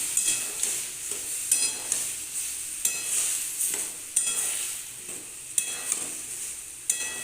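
Chopped tomato stirred with whole coriander and cumin seeds in a hot pan, sizzling steadily, with a spatula scraping the pan at regular intervals. It is close and clear, with no talking.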